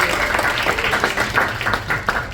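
A classroom audience claps in a steady, dense burst of applause for a student's American Revolution game turn, moderately loud and continuous, with a faint voice underneath.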